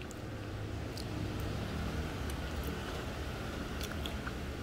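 Spicy dried tofu being chewed close to the mic, a steady run of soft crunchy bites and mastication for several seconds, with no talking.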